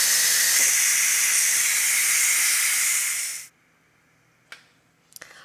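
A Ninja Foodi pressure cooker vents steam in a loud, steady hiss for about three and a half seconds, cutting off abruptly, followed by a couple of quiet clicks from the lid or valve.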